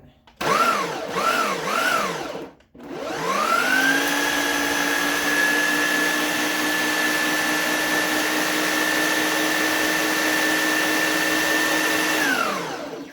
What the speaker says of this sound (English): Okay, so now we're going to puree it. So turn it on.